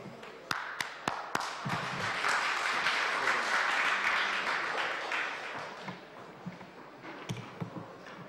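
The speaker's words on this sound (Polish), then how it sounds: "Brawa." Audience applause in a Warsaw business society hall as a speaker is welcomed to the podium, a steady wash of many clapping hands that swells, holds, then thins out, with a few sharp isolated claps at start and end.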